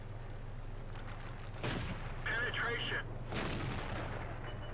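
Tank cannon fire in World of Tanks from a Panzer 1C, with two heavy booms a couple of seconds apart, each with a sharp, loud onset and a rumbling tail, over a steady engine drone and faint game noise.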